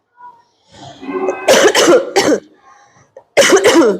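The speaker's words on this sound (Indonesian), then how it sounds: "Maaf ya, Bu Guru agak batuk" A person coughs several times close up, a cluster of three harsh bursts followed by a short pause and two more coughs.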